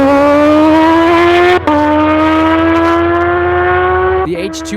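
A single car, apparently a Nissan GT-R, makes a hard solo quarter-mile drag pass at a private event, its loud engine climbing steadily through the gears with a brief dip at each shift, then fading at the end of the run.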